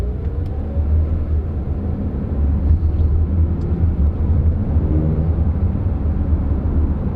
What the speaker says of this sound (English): I'm driving my car right now